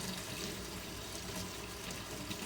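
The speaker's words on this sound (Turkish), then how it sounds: "Suluğunu bir yıkayayım." Running water from a tap while a pet bird's water dish is washed in a sink, a steady, even hiss of flow that stays fairly faint throughout with no talking.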